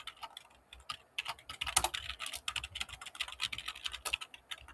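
Code being typed on a computer keyboard, a brisk run of close, irregular key clicks and taps that continues steadily, with a few louder keystrokes standing out.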